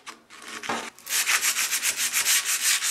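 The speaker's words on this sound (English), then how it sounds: "I'm going to take just a piece of sandpaper in through there and clean that edge up just a touch" A 100 grit sanding disc is worked by hand against the edge of a zero clearance table saw insert, a few short scrapes followed by quick, rhythmic back-and-forth rubbing strokes, close and fairly quiet.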